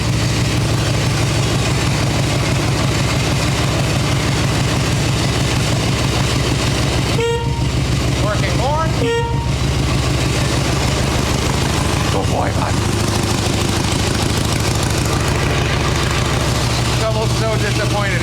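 An '89 Harley-Davidson Ultra Classic with an Evo engine idles on full choke at about 1,500 RPM, a loud steady low rumble that runs throughout while someone talks over it.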